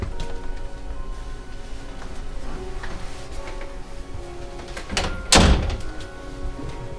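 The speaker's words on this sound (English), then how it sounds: "Let me shut this door." A door is pushed shut with a single solid thunk partway through, loud and close, inside a quiet house with faint background hum and no talking.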